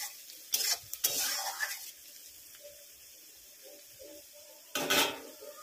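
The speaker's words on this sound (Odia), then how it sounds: "ପିଆଜ ନାଲି ହେବା ପର୍ଯ୍ୟନ୍ତ ଭାଜୁଥିବା" Onions frying in a pan with a soft steady sizzle, broken by a few loud bursts of stirring and utensil scraping against the pan near the start and end.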